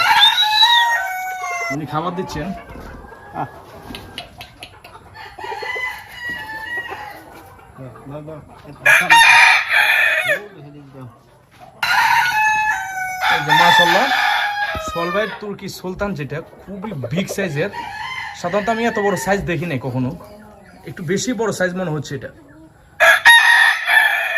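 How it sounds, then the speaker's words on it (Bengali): Ko-Shamo chickens on a farm crow loudly and cluck repeatedly, several close, drawn-out crows breaking through between stretches of people talking. "এটা কি মুরগি কোষামু মাশাল্লাহ খুবই সুন্দর"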